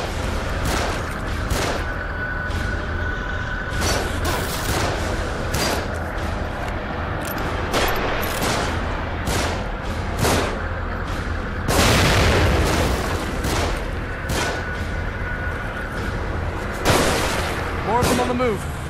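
Gunfire coming from above in the survival horror game The Evil Within, with repeated booming shots and bursts over a constant loud background of game noise and music.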